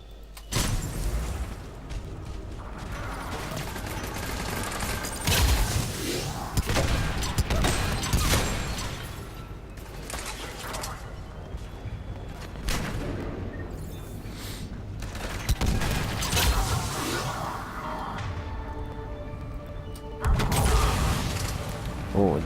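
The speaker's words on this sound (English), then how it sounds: "Oh, that was a random explosion." Combat in the video game Mass Effect 3 brings bursts of gunfire and a sudden explosion, dense crackling volleys and booms rising and falling over a steady game soundscape, with occasional talk.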